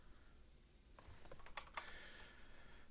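Quick light keystrokes on a keyboard entering a zip code during a console setup, a short burst of close clicks over a quiet background.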